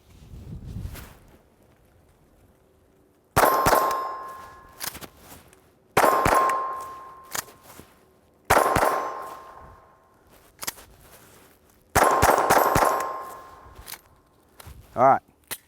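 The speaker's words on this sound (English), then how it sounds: "So now we're shooting the Remington 525 Golden Bullet." Repeated bursts of Glock 44 pistol shots firing Remington 525 Golden Bullet .22 rounds, outdoors at a range, each volley a quick string of sharp cracks with a ringing clang, separated by pauses with faint handling noises.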